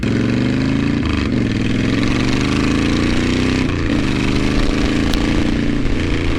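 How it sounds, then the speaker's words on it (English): A 2010 Honda Fury V-twin motorcycle engine running close and loud, a thick continuous throb with slight pitch rises as the throttle is blipped, steady throughout with no voices. "This V-twin, it's got some torque."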